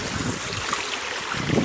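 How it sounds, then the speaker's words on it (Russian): A small forest stream flows through hilly woodland with lingering late-May snow, giving a steady broadband rush of water mixed with some wind, moderately loud and continuous with no talking. "Сейчас я дойду до ручья. Вот ручеек."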